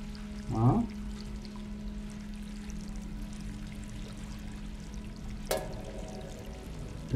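In the video game Stray, a short pour of water gurgles near the start, then a steady low hum carries on, broken by one sharp click midway. The whole scene is quiet and faint.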